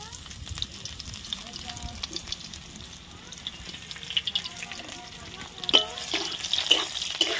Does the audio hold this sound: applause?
no